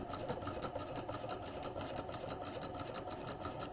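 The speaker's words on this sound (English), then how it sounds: "we're just going to stitch all the way around" A sewing machine runs steadily, stitching around the folded waistline edge of a skirt, its rapid needle chatter continuous and close throughout.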